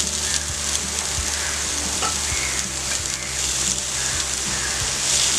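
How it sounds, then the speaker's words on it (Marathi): Onion frying in oil in a pan over full gas flame, a steady close sizzle with occasional soft scrapes and stirring taps throughout. "आता कांदा भाजून घेऊया।"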